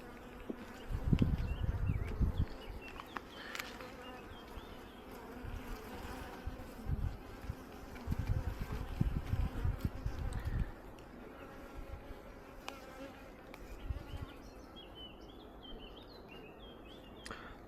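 Bees buzz around open beehive frames during a hive inspection at an apiary, a close, steady drone that swells in louder bursts as insects pass near, with faint bird calls in the background.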